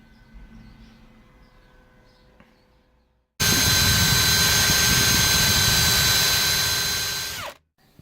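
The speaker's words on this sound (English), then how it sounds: "attachment from a drill or something. Just hone it out a bit." A drill-driven hone spins inside the cylinder of a 3hp Briggs & Stratton Model 8B lawnmower engine, a loud steady high whine that starts abruptly after a quiet stretch, runs about four seconds and winds down.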